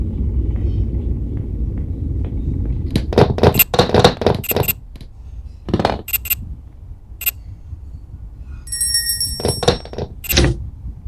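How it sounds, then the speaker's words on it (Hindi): A remote-controlled door opens in the video game Bye Bye Granny: a low mechanical rumble, then a run of heavy thunks and clunks, with sharper metallic clicks toward the end. No speech. "यह दरवाजा भी खुल गया, रिमोट वाला दरवाजा।"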